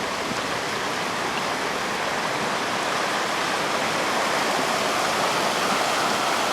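A river flows near an old mill, giving a steady, broad rushing wash of water that stays even and fairly loud throughout with no voices.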